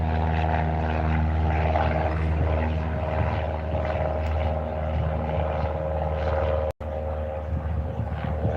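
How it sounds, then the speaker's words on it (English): Propeller plane passing over Moorabbin Airport, a steady droning engine hum with layered low tones holding loud and continuous, briefly dropping out for an instant before resuming. "Oh, talking about planes, there's another one."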